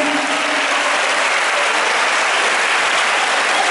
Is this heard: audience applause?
yes